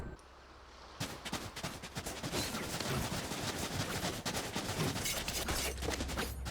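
Rapid gunfire rattles in the video game Eve Ascension, a dense, continuous barrage of shots that starts abruptly after a second of quiet and keeps going steadily throughout.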